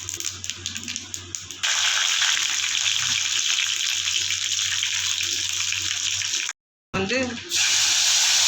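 Tamarind extract poured into a pan while making puliyodharai, a steady close liquid pour and splash running several seconds, briefly cutting out before resuming.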